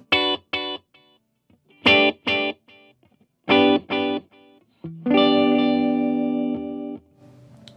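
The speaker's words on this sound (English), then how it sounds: "The first of which is a linear delay, which sounds like this." Electric guitar through the linear delay on a Blackstar ID:60 amp: a few short distorted chord stabs, each echoed in quick repeats, then a longer sustained chord fading out, with no talking.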